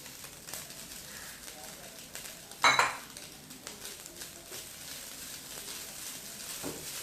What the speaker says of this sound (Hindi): मैं अपना चिकन ऐड कर दूँगी इसके अंदर